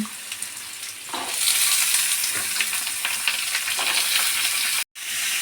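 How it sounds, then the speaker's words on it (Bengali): Cut pumpkin pieces hitting hot mustard oil with black cumin seeds, a loud sizzle that swells and holds steady with a few scraping stirs, close and alone, then cuts off abruptly near the end. "এবার কেটে রাখা কুমড়োগুলো এর মধ্যে আমি দিয়ে দিচ্ছি।"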